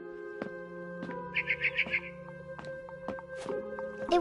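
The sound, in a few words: barn swallow chirping outside a window, from video game What Remains of Edith Finch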